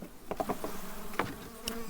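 Honeybees from a weak colony with little brood buzz close by in a low, wavering hum, mixed with soft rustling and light tapping sounds.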